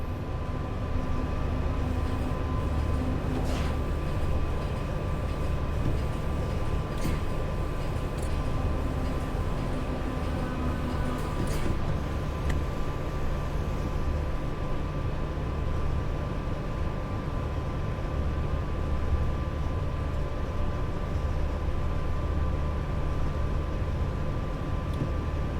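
Class 87 electric locomotive in Train Sim World 5 braking into a station: a steady low rumble and drone with faint tonal whine and occasional clanks, continuous throughout.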